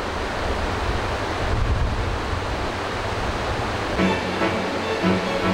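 Continuous rushing water roars steadily at close range, a dense turbulent wash with no pauses, like fast river rapids in Hokkaido, Japan.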